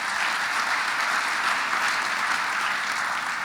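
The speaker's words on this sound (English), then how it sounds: "Let's give Governor Bullock another big round of applause." Sustained applause from an audience at the National Governors Association summer meeting in 2019, honoring a governor; steady, dense clapping fills the whole stretch with no break.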